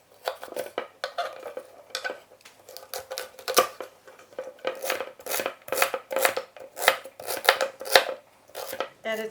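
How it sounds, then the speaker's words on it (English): Celery stalks having their ends cut off with a knife on a board, a quick run of sharp, close chopping taps in irregular bursts, with light clatter of kitchenware between strokes. "Now I'm gonna take 2 celery stalks, just cut the ends off."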